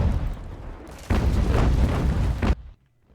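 Sailing warships fire cannons in the naval game Ultimate Admiral: Age of Sail, a heavy rumbling boom rolling for over a second before cutting off into near silence.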